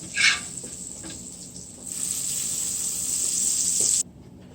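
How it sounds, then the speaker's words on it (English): Garlic and curry powder fry in a hot pan, a steady bright sizzle that swells after a brief stir, then cuts off abruptly near the end; no talk over it. "So just burn the garlic with the curry powder a little."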